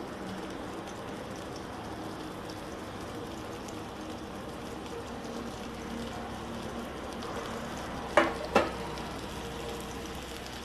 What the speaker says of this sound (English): Just fry them until it is nice and translucent